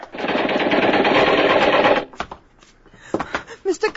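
Sustained machine-gun fire from a radio drama sound effect, a loud, dense rattle for about two seconds, then scattered sharper bursts and voices shouting.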